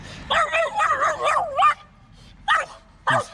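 A dog yips and whines in a rapid, wavering run of high-pitched calls, then two short sharp barks after a pause, close by.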